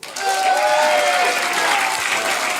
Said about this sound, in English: Clap if you think it's cool taking trips with the homies.